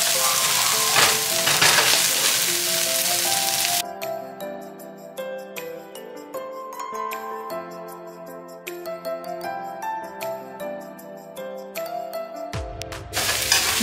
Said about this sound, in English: In goes the cabbage, and we're just gonna allow this to cook down.